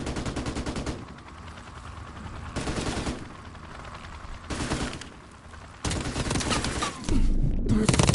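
Sustained automatic gunfire in Call of Duty: Modern Warfare Remastered, loud rattling bursts pulsing in waves with brief lulls, rising to a heavier barrage near the end.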